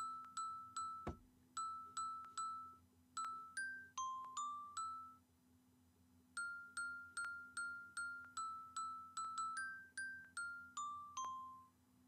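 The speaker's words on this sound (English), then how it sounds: "we have jingle bells!" A bright electronic chime plays Jingle Bells, each note ringing and decaying, with a short pause midway before the tune continues.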